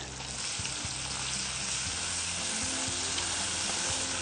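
Curry with ginger paste sizzles steadily in the pan as it is stirred, a dense, even frying hiss with soft scraping, close and continuous with no talk.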